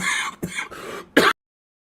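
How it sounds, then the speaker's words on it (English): A person clears their throat and coughs in a quick series of close, raspy bursts, ending with one sharp, louder cough before silence. "Oh, God, I'm going to start coughing again."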